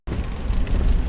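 Heavy rain pours down near Trondheim, heard from a Suzuki Jimny as a dense, steady hiss and drumming that starts abruptly and stays loud and close throughout, with no voices.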